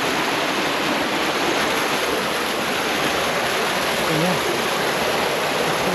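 Stream water rushing continuously at night in Konkan, a broad steady wash close by as someone wades through it on a crab hunt, with brief faint voices in the background.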